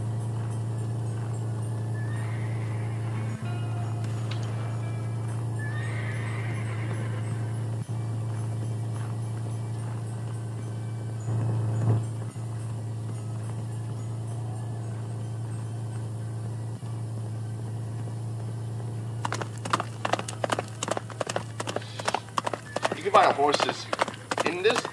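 A low steady hum runs throughout a Roblox game, with a horse whinnying early on and a quick run of hoof clip-clops near the end.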